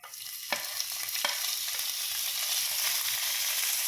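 Marinated fish frying in hot mustard oil in a pan, a steady close hiss and sizzle with two sharp spatter pops early on, no voices.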